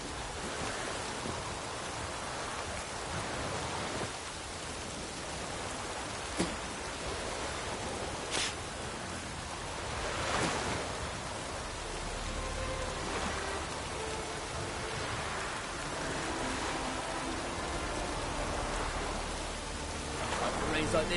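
Steady rain falls in a continuous broadband hiss with no break, soft and even throughout, with a few faint louder patters now and then.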